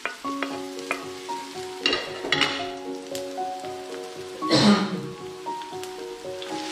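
Ginger and garlic fry in a pan with dried meat, making a crackling sizzle broken by stirring scrapes and clinks, with steady tonal hum behind and a louder burst of frying midway.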